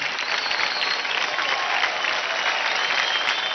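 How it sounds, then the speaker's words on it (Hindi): Thunderous audience applause erupts for a dance performance on a televised dance competition stage, a dense, even roar of clapping mixed with crowd noise that holds steady throughout. "फैंटास्टिक, जोरदार ताली हो जाए सुनील छेत्री के लिए"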